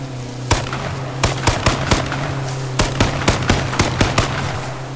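Gunfire in the video game H1Z1, a string of sharp, loud single shots spaced irregularly, some in quick pairs, over a steady low hum.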